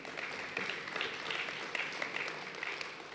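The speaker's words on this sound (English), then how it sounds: "I think you deserve another round of applause" A conference audience applauds in a steady, dense wash of clapping that swells in a few louder bursts and carries on evenly throughout.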